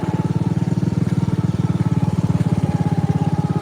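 A John Deere riding lawn mower engine chugs uphill in first gear on a grassy path, a close, loud, steady low-pitched pulsing thrum with a fast even beat and no talking.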